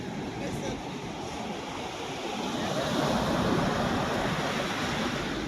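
Large waves crash and surge along Dwarka beach, a steady roar that swells louder midway through, mixed with wind rumble on the microphone.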